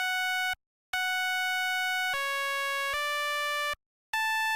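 Synth saw-wave bass playing alone, a bright buzzy tone in sustained notes with short gaps between them and a few pitch changes, steady and fairly quiet.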